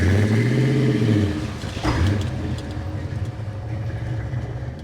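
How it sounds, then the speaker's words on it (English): A 1957 Chevrolet engine runs loud with a falling rev, and a sudden sharp bang from a catastrophic failure cuts through midway before the engine keeps labouring. "What you heard there was a catastrophic failure on the 57 Chev,"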